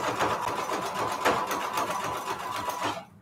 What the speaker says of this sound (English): I'm just sewing right here, like along the middle of this.